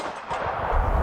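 A Glock Gen 5 pistol fired at an outdoor range, a loud booming report with a rolling tail that swells toward the end, no talk over it.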